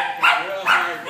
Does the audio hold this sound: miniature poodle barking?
yes